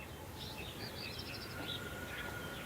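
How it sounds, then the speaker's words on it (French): Birds chirp and sing softly along the Canal du Midi, several small calls scattered over a faint, steady outdoor hush. "Ne serait-ce que le bruit des oiseaux."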